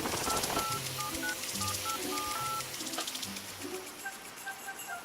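Touch-tone telephone keypad beeps dialing a repair service, a quick run of about a dozen distinct tones at an uneven pace, then a softer ringback pattern, fairly clear and close with no talk.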